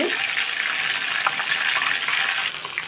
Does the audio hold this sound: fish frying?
yes